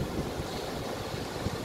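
Ocean waves wash in at the shore along the Las Americas promenade in Tenerife, a steady broadband rush mixed with wind buffeting the microphone, with no distinct individual breakers.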